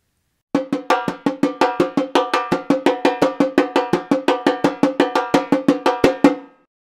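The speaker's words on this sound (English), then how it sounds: "So the repenique sounds like this." A repenique drum plays a fast, crisp Vila Isabel samba pattern alone, with sharp evenly spaced strikes and a few accents in a steady rolling rhythm for about six seconds.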